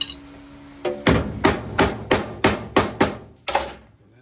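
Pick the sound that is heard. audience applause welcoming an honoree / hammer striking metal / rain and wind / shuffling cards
hammer striking metal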